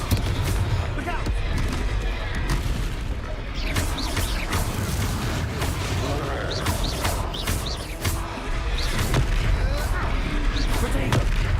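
Confringo explosion spell blasts in Hogwarts Legacy, loud booming impacts and crackling bursts repeating through dense combat noise, with shouted voices over the action.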